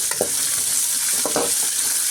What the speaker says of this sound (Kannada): ಈರುಳ್ಳಿ ಸ್ವಲ್ಪ ಚೆನ್ನಾಗಿ ಫ್ರೈ ಆಗೋವರೆಗೂ ನಾವು ಫ್ರೈ ಮಾಡ್ಕೊಳ್ತೀನಿ.